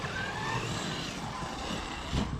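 A Traxxas RC car running its original motor on 24-50 gearing gives off a continuous high-pitched whine at moderate distance, with steady motor noise throughout.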